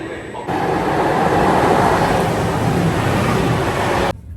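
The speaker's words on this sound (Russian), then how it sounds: "На мою платформу в мое время приехал поезд моей фирмы" A high-speed train rumbles steadily alongside a platform in Bologna, a broad continuous roar of wheels and engine that holds for several seconds before cutting off.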